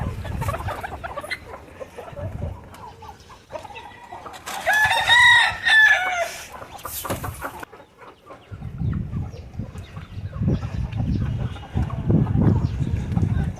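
Hens and roosters at a poultry breeder's yard cluck and crow, with one clear rooster crow in the middle among scattered clucks and handling noises.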